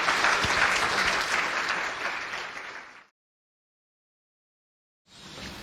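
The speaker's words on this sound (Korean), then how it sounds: "큰 박수로 맞아주시기 바랍니다" Church audience applauding at a thanksgiving Sunday celebration night, loud sustained clapping for about three seconds, then a pause of silence before clapping resumes.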